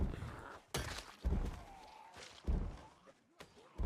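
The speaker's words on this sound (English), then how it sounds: "Oh, I hear a lot banging on the doors over there." Zombies banging on doors in the survival game Project Zomboid, with several loud, irregular thuds and slams in a close, hollow space, mixed with faint in-game noise.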